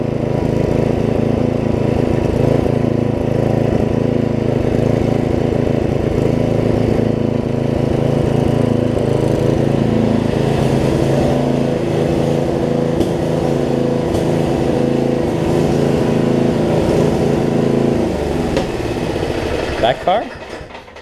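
A Tecumseh engine on a Murray riding mower runs steadily with a loud, continuous droning chug that cuts off near the end, and a voice speaks over it.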